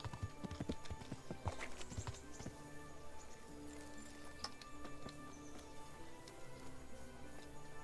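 Horse hooves clattering in a steady galloping clip-clop across the medieval video game Kingdom Come Deliverance, with sharp close hoofbeats over a bed of game ambience and music, and no talking.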